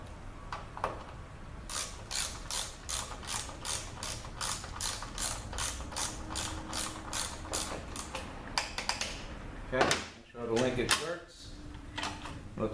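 A ratchet fitted with a Torx 30 bit clicks in rapid, regular bursts while tightening bolts on a 722.6 transmission valve body during reassembly, with some handling clatter near the end and occasional voice underneath.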